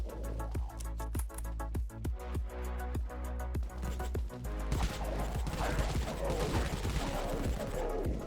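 Dawn SMG firing in the video game Dead Frontier, a fast rhythmic run of gunshots with brief pauses, giving way to denser rattling bursts and clatter in the second half, close and loud with no talk.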